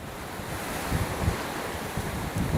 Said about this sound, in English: the howling of the wind has been pretty consistent here throughout the night